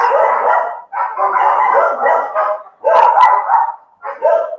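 Several dogs bark in loud, close bursts, a long barrage followed by two shorter flurries after brief pauses.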